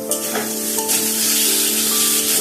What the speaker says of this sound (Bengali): এখন এর মধ্যে দিয়ে দেব কুচানো টমেটো